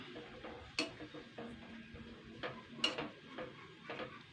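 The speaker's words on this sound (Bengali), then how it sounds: "কুন্তিতে একটু নাড়াচাড়া করে নেবো" Greens for sholka, an old Bengali leafy-greens dish, stirred with a spatula in a cooking pot, giving soft scraping with a few sharp metallic clinks, faint and close, over a low kitchen background.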